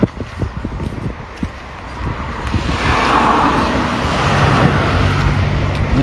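Road traffic on a route near a city rushes past, starting with scattered thumps and then swelling into a broad, steady whoosh of a vehicle passing close by, with no talk heard.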